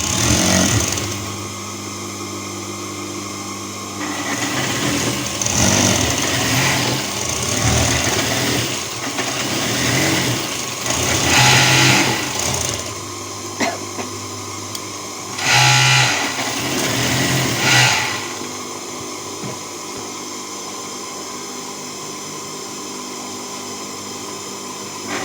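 A sewing machine stitching a garment sleeve in bursts, its motor whirring in several runs of a few seconds each separated by quieter pauses, close and steady, no talk.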